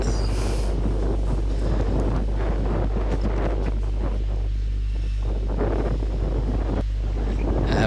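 Strong wind blowing on Marunthuval Malai hill near Kanyakumari, a heavy continuous roar buffeting the microphone with a low rumble underneath, close and unbroken throughout.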